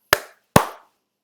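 Two crisp hand claps spaced about half a second apart mark out the two syllables of the word contact, each a sharp close slap with a short decay, then silence.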